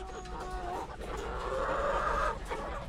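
Chickens clucking and murmuring nearby on a small farm, a steady low chatter of several birds with a few higher calls rising over it.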